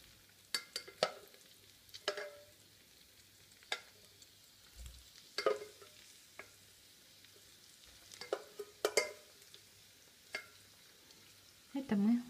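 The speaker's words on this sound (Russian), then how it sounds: "печенку вместе с луком, но без той жидкости, которая выделилась из нее, отправляем в горячее масло" Chicken liver and onions dropped into hot oil in a pan, quiet sizzling under a series of sharp spatula clanks and scrapes at irregular intervals, ending with a louder scrape.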